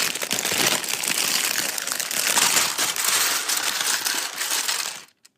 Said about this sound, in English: That is the sound of opening and pouring out a pick-a-brick order.